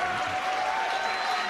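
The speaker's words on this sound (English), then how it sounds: "Some jam-packed crowd here in Miami Beach." Wrestling crowd applauding in a packed Miami Beach arena, a dense, steady wash of clapping and crowd noise with no breaks, alone and fairly loud.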